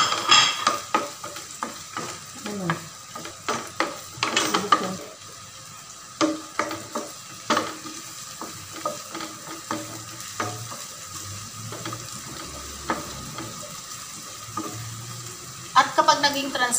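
Garlic and onions sauté in a pan for a creamy beef mushroom dish, with steady frying sizzle under repeated close stirring scrapes and clinks of a utensil, no talk.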